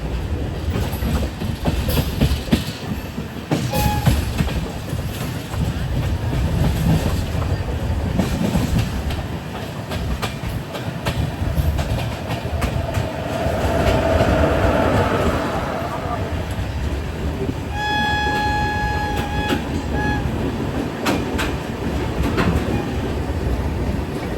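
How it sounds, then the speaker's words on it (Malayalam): An express train arriving at a station rumbles and clatters steadily with rail noise, and brakes squeal faintly toward the end as it slows. "ട്രെയിൻ ഇപ്പോൾ മധുബനി സ്റ്റേഷനിലേക്ക് എത്തിയിരിക്കുകയാണ്"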